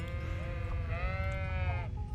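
Sheep bleating in Kingdom Come: Deliverance 2, two long wavering bleats close by, the second stretching over a second, set over steady low background rumble from the game world.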